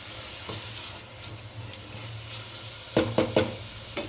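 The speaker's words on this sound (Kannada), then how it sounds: "ನೋಡಿ, ಈರುಳ್ಳಿ ಫ್ರೈ ಆಗ್ತಾ ಇದೆ." Onions frying with salt in a pan over raised heat, a soft continuous sizzle with a steady low hum, then a few sharp stirring scrapes near the end.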